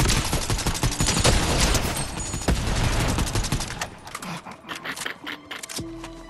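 Rapid bursts of automatic gunfire crackle through a first-person shooter solo match, dense and loud for the first few seconds, then thinning into scattered shots and mechanical clatter near the end.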